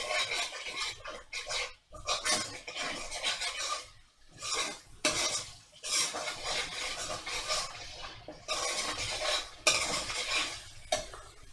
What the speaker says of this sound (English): Stir that in. Scrape it all off, make sure it's not sticking anywhere.